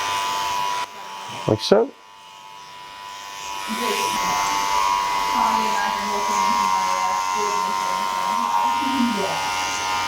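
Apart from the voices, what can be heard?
electric hair clippers cutting hair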